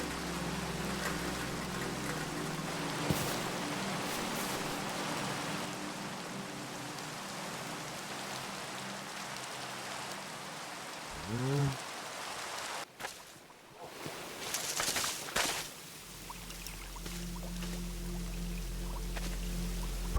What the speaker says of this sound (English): This mod makes rain have specific sounds for certain circumstances, so on water or metal or glass surfaces,